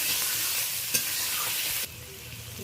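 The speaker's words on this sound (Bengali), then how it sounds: "সমস্ত পেঁয়াজ টমেটো কাঁচা লঙ্কা রসুন বাটা বেশ ভালো করে 3-4 মিনিট ধরে নেড়ে নেড়ে নরম করে কষিয়ে নেব" Onion, tomato, green chilli and garlic paste frying in a pan for a prawn dish, a steady sizzle with a brief stirring clatter, then the hiss drops quieter partway through; nearby, no voices.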